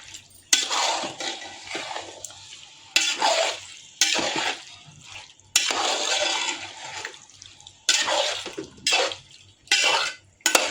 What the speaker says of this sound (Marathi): एकदा आपण ढवळून घेऊया मस्त